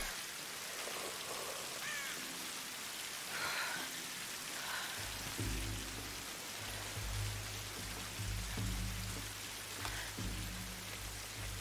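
Quiet, steady rain in Tomb Raider (2013) hisses alone, joined by a low droning tone in the second half.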